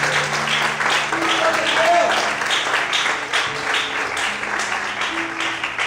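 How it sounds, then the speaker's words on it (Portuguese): Sustained applause from a church congregation at an evening service fills the space, a broad continuous roar of many hands clapping over a low held musical note, with some voices mixed in. "Vamos aplaudir ao Senhor em forte."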